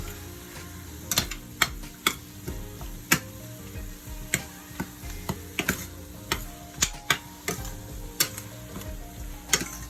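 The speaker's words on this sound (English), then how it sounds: "Now I'm gonna go ahead with my handy dandy spoon and mix all of this up." A spoon stirs and mixes food in a pot for a shepherd's pie, giving repeated clinks and scrapes at an uneven rhythm against a low background hum, close and moderately loud.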